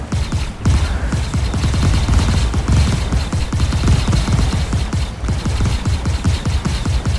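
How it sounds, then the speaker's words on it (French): Sustained video game gunfire crackles in rapid, dense volleys of loud close shots, with a brief pause before the firing resumes, no talk. "Je vois des tirs partir."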